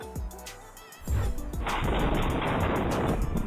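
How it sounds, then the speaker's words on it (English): Gunfire caught on a street surveillance camera in daylight near 42nd Street and Newport Place, a loud sustained burst of sharp reports and echoing crackle that rises abruptly after a quieter opening and continues without speech. "Shots fired in the middle of the day."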